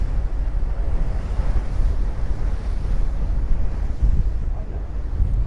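Steady wind buffeting and rushing water against the hull aboard the Manly Ferry crossing Sydney Harbour, a continuous broadband roar with no talk.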